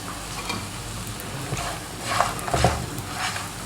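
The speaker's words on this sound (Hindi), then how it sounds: "हल्की सी आंच पे इसको चम्मच चलाना शुरू कर देंगे ताकि ये मेल्ट हो जाए।" Jaggery and a little oil stirred with a spoon in a pan over low heat, soft scraping and gentle sizzle with a few louder spoon strokes near the end, close and quiet, no talking.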